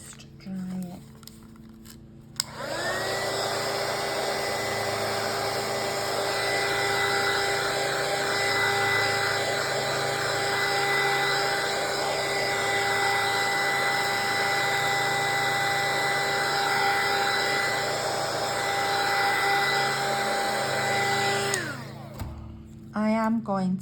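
A handheld dryer drying printed tea bag paper for a junk journal, a loud steady whirring hum that starts abruptly, runs unbroken for about twenty seconds close by, then cuts off.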